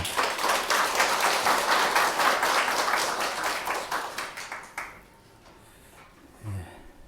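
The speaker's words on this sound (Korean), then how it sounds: "우리 하나님께 감사와 영광의 박수 올려드리겠습니다" A church congregation claps during a Sunday worship service, steady and full for about five seconds before it drops away to near silence, with a faint sound near the end.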